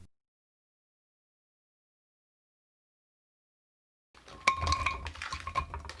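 A spoon mixing tteokbokki seasoning sauce in a bowl, a close run of clinks and scraping that starts after several seconds of silence.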